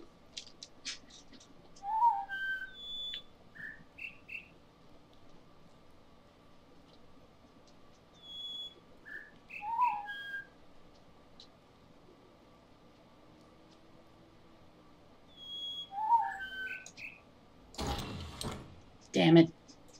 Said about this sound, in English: intently listening to these bird calls.